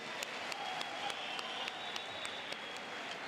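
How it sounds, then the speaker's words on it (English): Steady audience applause at a celebration and national elective conference, a dense wash of many hands clapping continuously at moderate distance, with a few sharper claps standing out through the whole stretch. "a round of applause, please."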